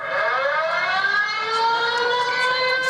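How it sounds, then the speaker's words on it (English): A siren wails at a 3Ptag junior girls' match between Indigenous and Fiji, a loud sustained rising tone with layered harmonics that holds steady throughout, no talk over it. "As you see here on the replay with the siren in the background"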